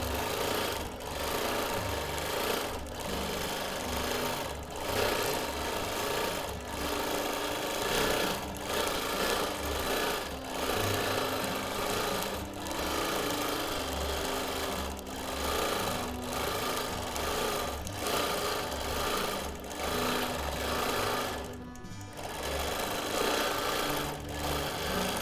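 A sewing machine quilts steadily through a pinned, pieced quilt backing with thick seams, its motor whirring in a continuous rapid stitching rhythm close up, with brief pauses.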